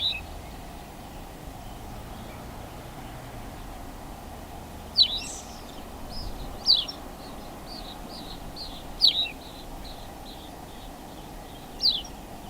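Woodland birdsong recorded in Menorca's woods: four short, bright call phrases repeat every two to three seconds against a quiet, steady background hum.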